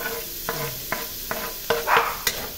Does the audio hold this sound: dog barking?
no